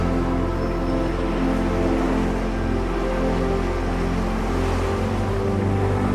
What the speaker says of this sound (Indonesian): Duduk di tepi pantai, mendengar musik alami ombak